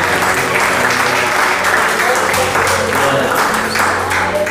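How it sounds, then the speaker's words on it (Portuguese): A church congregation claps together during a communion service, a thick, continuous wash of hands that stays loud throughout, with voices faintly mixed in. "Vamos bater palmas, Senhor"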